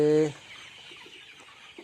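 Forty-day-old poultry chickens in a shed, a single loud cluck up front and then faint scattered clucks and soft bird noises in the quiet.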